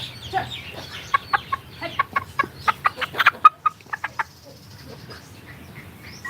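A rooster gives a rapid series of about a dozen sharp clucks in the middle, loud and close, with quieter farmyard sounds before and after on a humid, cloudy spring day.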